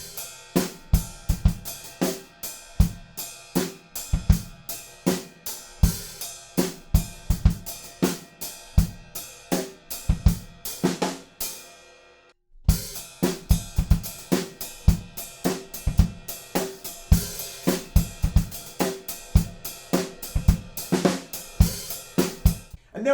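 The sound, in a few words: acoustic drum kit groove: offbeat ride cymbal, snare and kick drum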